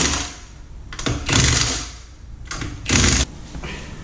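A Milwaukee impact wrench rattles against trailer lug nuts in several short bursts, loud and close, with pauses between each hammering run.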